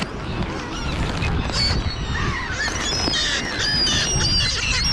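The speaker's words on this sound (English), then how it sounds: "Here's another beautiful seagull, different types" Several seagulls, squabbling with crows over food on a wintry day, give loud overlapping honking calls close by, a busy chorus of repeated cries that runs throughout.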